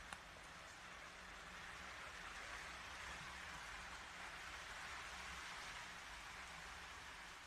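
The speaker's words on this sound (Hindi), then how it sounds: "काफ़ी तेज़ बारिश हो रही है।" Heavy rain pours down steadily, a dense, continuous hiss of falling water that stays even and fairly loud throughout, with no voices.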